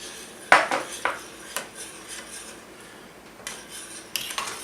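A utensil stirs a marinade with red pepper flakes and sugar in a bowl, giving a sharp scrape at first and then soft, scattered clinks and rubbing sounds nearby.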